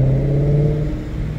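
A straight-piped, catless and mufflerless BMW E39 M5 engine gives a loud, close, deep, raspy drone that holds nearly steady with a slight rise in pitch.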